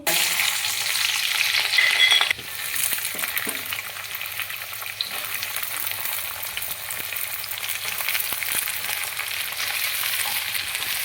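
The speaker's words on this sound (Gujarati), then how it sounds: "આવી રીતે આપણે તેલમાં બધી જ ચોળી હોય ને નાખી દેવાની છે. પછી આસ્તે આસ્તે ફેરવવાની છે." Cowpeas frying in oil with mustard seeds, cumin, fenugreek and green chillies, a dense continuous sizzle that drops slightly after a louder first two seconds, then runs steady with faint scraping as they are stirred, close by and without talk.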